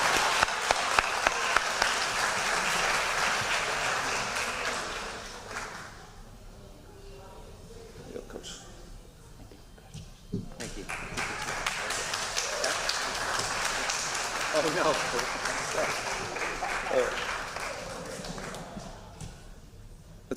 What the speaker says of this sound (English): Let's give one more big round of applause to Coach Bonnets.